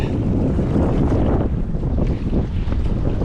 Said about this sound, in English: it is just way too windy